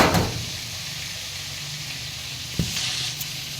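Chicken fries in a pan at home with a steady close sizzle, opening with a stirring scrape and another brief clatter of a utensil partway through.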